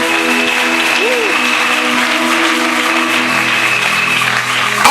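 A church congregation applauds during a Sunday worship service. Dense, steady clapping fills the whole stretch at full volume, with a sustained musical tone and hum underneath.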